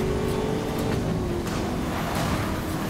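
Ford Mustang Boss 302 in NFS Most Wanted (2012) roars steadily through a slight drift, a loud sustained engine drone with shifting pitch, alone without talk.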